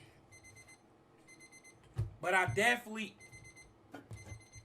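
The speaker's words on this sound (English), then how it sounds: "that's the alarm again" An alarm beeps in short repeated bursts of high tones, faint in the background, while someone talks over it.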